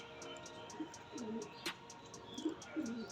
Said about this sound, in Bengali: দেখুন পায়রা দুটো দেখুন